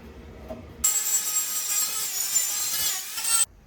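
A car body panel is being trimmed for welding, a harsh rasping cut starting abruptly, grinding on steadily for under three seconds, then stopping sharply, loud and close with no talk.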